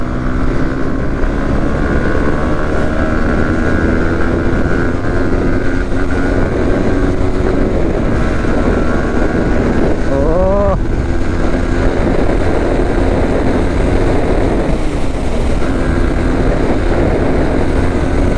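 A motorbike rider doing wheelies passes by amid a steady loud engine drone, with a brief rising engine whine midway through and talk mixed in.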